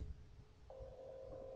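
Outgoing telephone call in a video game, a steady ringback tone starting partway through and holding as the line waits for an answer.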